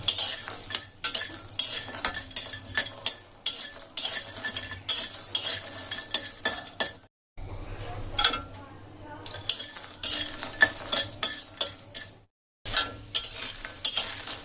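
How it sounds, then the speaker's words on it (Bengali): Lentil dumplings (bori) are dry-fried in a wok with no oil, giving rapid repeated scraping and clinking spatula strokes against the metal over a faint sizzle, close up, with two brief silent gaps. "শুকনো কড়াইয়ে প্রথমে বড়িগুলোকে একটু ভেজে নেব।"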